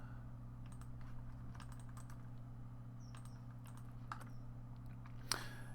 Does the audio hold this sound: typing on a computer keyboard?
yes